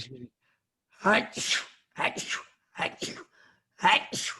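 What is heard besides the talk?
sneeze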